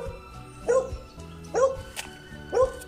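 A dog barks three times at even intervals in the village of Chichicastla. The barks are moderately close, with a quiet background murmur.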